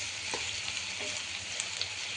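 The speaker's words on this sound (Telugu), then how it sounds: "స్టవ్ని హైలో ఉంచుకునేసి నేను ఫ్రై చేస్తున్నా" Chopped onion fries in oil over a high flame for chicken samosa filling. The sizzle is close, dense and continuous, with a few faint stirring scrapes and no talking.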